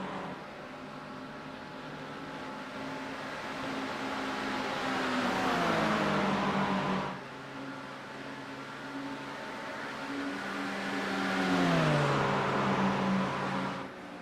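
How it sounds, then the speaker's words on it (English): GT3 race cars accelerate up the Camel Straight in a road-racing series, engines droning and rising in pitch as they upshift in two long pulls, loud and steady with no talk over them. "Sweet sound of GT3 cars up the Camel Straight."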